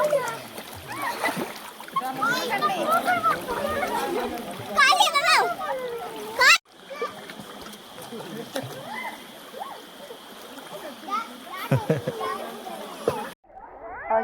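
Water of the Ubbalamadugu waterfall splashing and falling steadily, a continuous broad wash close by, with children's voices and talk mixed over it and a brief drop-out partway through.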